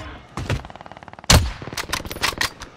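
In a shooter video game, gunfire sounds in loud close shots: a quick rapid burst, then one sharp heavy blast, then several more scattered shots.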